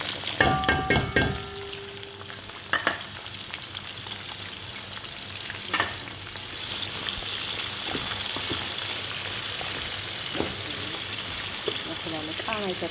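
Chopped onions fry for chicken mandi in a steady, hissing sizzle that runs throughout, broken by a few scraping stirs and clatters, with a brief voice early on.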